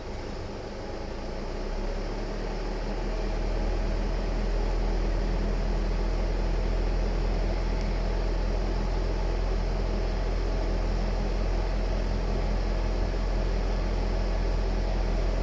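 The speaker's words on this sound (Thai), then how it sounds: "ขอเร่งเครื่องหน่อยครับ" A Nissan E25 van engine revs with the air conditioning switched on, during a repair for the A/C not cooling while driving. It makes a loud, steady, broad droning roar that swells over the first few seconds and then holds.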